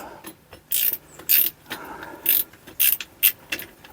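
Ratcheting clicks from loosening the nut and bolt on a Peugeot 3008 Mk1 roof rack: several short, bright bursts of rapid ratchet-pawl clicking in an uneven rhythm, close up, with no talk.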